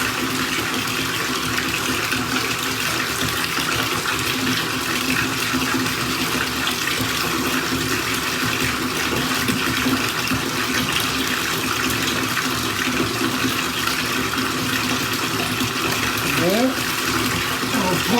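Hot water pours and splashes steadily into a container holding hats and detergent for washing, a continuous broadband gush running the whole time, fairly loud and close, with faint background noise and no clear speech.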